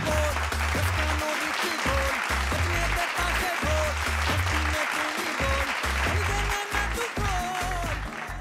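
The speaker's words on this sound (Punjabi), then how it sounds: "ਜ਼ੋਰਦਾਰ ਤਾੜੀਆਂ" A studio audience at a Punjabi children's singing competition semifinal breaks into loud, sustained applause. Dense clapping fills the whole stretch, with voices and a little music faintly underneath.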